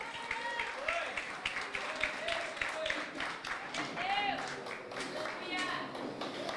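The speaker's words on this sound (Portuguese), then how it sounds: "Sente aplaudindo a Jesus Cristo." A church congregation claps in a sustained, steady burst at close range, with voices and a few calls rising over the clapping throughout.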